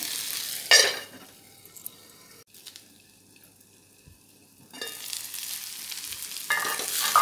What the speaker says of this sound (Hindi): बीच बीच में हम आलूओं को चलाते रहेंगे इस तरह से ताकि टमाटर भी हमारे अच्छे से गल जाएं